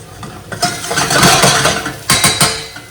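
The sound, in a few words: apples and onions frying in a pan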